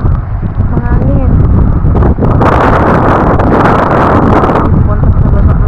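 Strong wind buffets the microphone at Suomenlinna sea fortress, a loud continuous rumbling roar that surges in the middle, with a voice talking over it.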